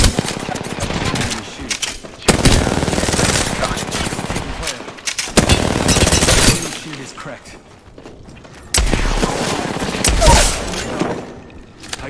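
Rapid video-game gunfire bursts in repeated volleys, loud and close, with a player's voice talking over the shooting between bursts.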